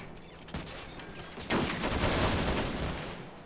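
Gunfire from guns in the Men of War Planetside 2 mod during a bridge assault, a dense rattling fusillade of rapid shots that swells louder midway and stays continuous.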